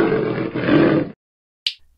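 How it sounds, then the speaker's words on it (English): A lion lets out one loud, close, sustained roar lasting about a second, swelling and then cutting off abruptly, followed by silence and a short faint noise. "Lion."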